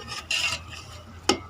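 Chicken stirred into spice masala for chicken pulao, a scraping stir with soft sizzling and a sharp clink of a utensil against the pot near the end.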